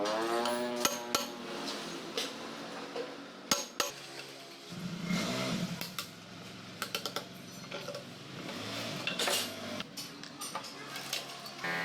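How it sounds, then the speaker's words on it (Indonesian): An iron hammer taps a motorcycle steering-head bearing race into place, with sharp metallic strikes in irregular bursts, some ringing, amid light clinking of parts and a voice talking now and then. "palu lagi dengan sedikit keras dan secara merata menggunakan asop"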